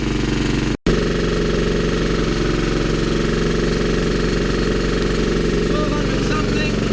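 GEET engine running steadily as its throttle is wound up, a loud continuous mechanical drone with a rapid knocking pulse and one brief dropout near the start.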